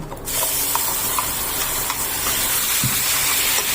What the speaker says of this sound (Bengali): এই সময়তে আমি এই পালং শাক বাটাটা দিয়ে দিচ্ছি।